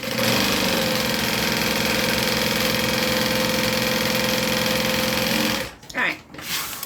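Sewing machine stitching a garment seam at stitch length 3, a steady rapid mechanical whirr running continuously for several seconds, loud and close, then stopping abruptly with brief handling clatter afterward.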